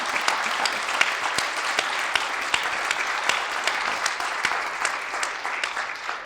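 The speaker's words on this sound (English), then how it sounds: "Can I get a round of applause for my community engagement team?" An audience at a public heroes appreciation awards event gives a round of applause for a community engagement team, a dense, steady clapping with a few sharper individual claps standing out, fading slightly at the close.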